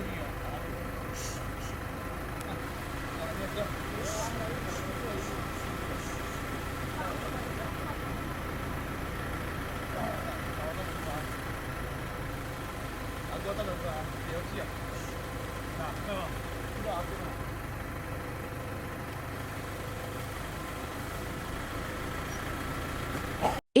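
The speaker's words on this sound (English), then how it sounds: "The feeders are here, and the engine of their van is quite loud." A steady low engine rumble idles continuously in the background, with faint voices talking over it throughout.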